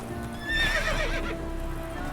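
A horse in The Witcher 3 video game gives a short, shrill whinny over steady clip-clop hoofbeats at a gallop, close and moderately loud, with a low game rumble underneath.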